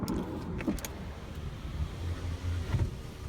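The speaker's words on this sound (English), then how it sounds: "All windows are automatic, one touch, up and down" Power window motor on a 2015 Mercedes-Benz CLA250 whirring through one-touch travel, a steady low hum inside the car with brief clicks and a short thump near the end.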